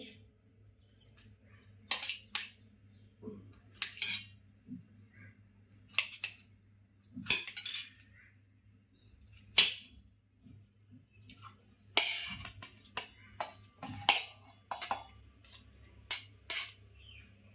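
A knife chopping ingredients on a board while cooking, with sharp, separate cutting taps at uneven intervals and short quiet gaps between strokes.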